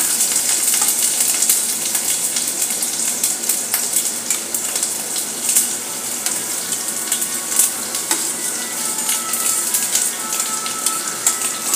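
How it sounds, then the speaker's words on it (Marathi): Chopped onion fries in hot oil for a dum aloo gravy, giving a steady, crackling sizzle with scattered sharp pops throughout, close and fairly loud with no talking. "आता कांदा घालून घेऊया।"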